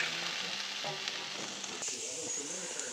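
Peppers, onions and garlic sizzle steadily in a pan, a close, continuous hiss of frying with no one talking.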